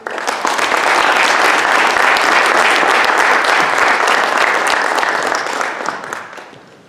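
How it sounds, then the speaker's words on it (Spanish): An audience welcoming Dr. Mario Sinay at an evening Masonic lecture bursts into loud, dense applause that swells quickly, holds strong for several seconds and then tapers off at the end. "Recibamos con un fuerte aplauso al doctor Mario Sinaí."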